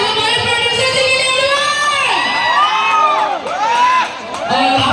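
Crowd at a live stage event cheering and whooping loudly, with shouting voices and sustained applause filling the space, close and dense throughout with brief dips in intensity.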